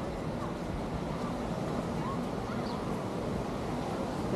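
Surf rolling onto Waikiki beach makes a steady, unbroken broadband wash that holds at an even loudness throughout, with no distinct individual wave crashes standing out.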